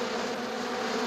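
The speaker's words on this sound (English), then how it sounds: "Now we're just waiting for the bees." A dense swarm of cartoon bees buzzes steadily and loudly for the whole moment, a continuous droning hum with no voices over it.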